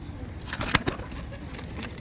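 Pigeons released by hand from a home loft give a couple of quick, close wing-flapping bursts over a low steady background.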